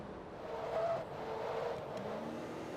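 Engine note of a 1960s racing car driving in Forza Motorsport 2, a sports car classic race, with a steady mid-level drone and faint tyre noise throughout.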